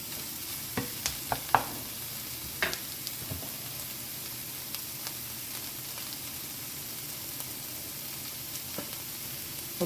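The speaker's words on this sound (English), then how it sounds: "Let it get a real hot sizzle." Chicken and vegetables sizzle in a hot stir fry on a Flame Thrower grill, a steady hiss of frying throughout, with a few scattered clicks and stirring taps near the start.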